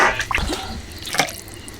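Raw titir bird meat is rinsed under running water, giving short splashes and drips near at hand that fade after a couple of seconds.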